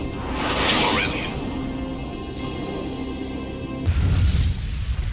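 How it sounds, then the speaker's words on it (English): Explosions rip through the Fenrir superweapon and the ship Archelon in an Ace Combat cutscene, a loud sustained roar of blasts and whooshing with a heavy deep boom swelling near the end. "Archelon and Diego Navarro's beloved weapon Fenrir were ripped by explosions and engulfed in flames."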